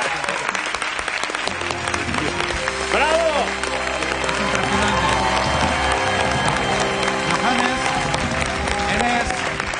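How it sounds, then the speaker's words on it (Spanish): Sustained loud applause and cheering from a television studio audience for an international body-painting artist, steady clapping throughout with crowd noise and some voices mixed in. "Un aplauso para él, por favor."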